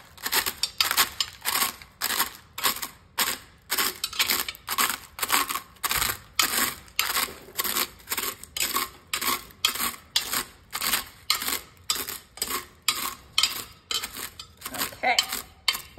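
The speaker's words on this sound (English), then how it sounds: "we have one bag of Doritos nachos in our crock pot. I'm gonna go ahead and start crushing it" A bag of Doritos nacho chips being crushed by hand inside a crock pot, a close, loud run of crackling crunches in a steady rhythm of about two per second, with no talk.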